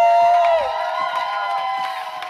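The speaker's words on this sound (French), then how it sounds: "Merci à toi, Emna Chour, on l'applaudit aussi." Audience applause and cheering at a live French podcast recording, a steady wash of clapping and crowd noise with whoops, fairly close and filling the whole moment without speech.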